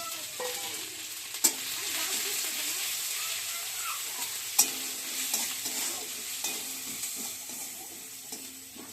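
Bay leaf and ginger paste hit hot oil already darkened with blackened chilli and cumin for a vegetable dal, giving a steady bright sizzle with a couple of sharp pops and faint stirring clatter, with no voices.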